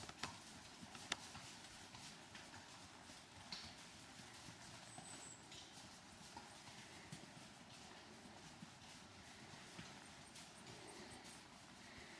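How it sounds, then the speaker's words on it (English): Faint hooves of ridden horses clip-clopping at a walking pace, distant and steady, under a wash of outdoor woodland ambience in the Quantock Hills in December, with no talking. "And the horses just gone past, people on horses."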